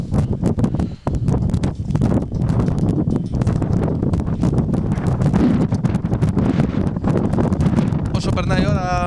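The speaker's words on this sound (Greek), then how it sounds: "Όσο περνάει η ώρα δυναμώνει και ο άνεμος εδώ στην ΑΟ Σύρου" Strong wind buffeting the microphone at an outdoor football stadium during a match in Syros, loud gusty rumble with constant rustling, under continuous commentary from a speaker.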